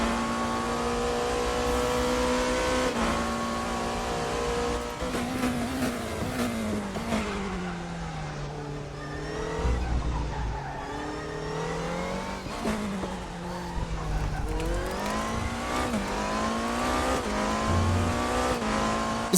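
A race car in the RaceRoom sim racing game laps a track, its engine loud and continuous, revving up and down through gear changes with rising and falling pitch sweeps.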